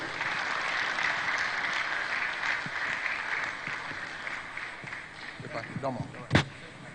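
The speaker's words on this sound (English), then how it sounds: "Please, another round of applause for Professor Tony Iredia" An audience at a management retreat claps for a speaker, the applause fairly distant and gradually thinning out, with scattered voices and a sharp thump near the end as the clapping fades.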